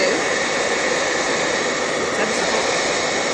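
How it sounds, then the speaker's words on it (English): A steady, loud airflow roar with a constant broadband hiss, running unbroken from start to finish like a hair dryer blowing close by. "I use a hairdryer."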